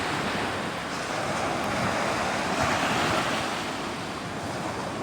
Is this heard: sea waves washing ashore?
yes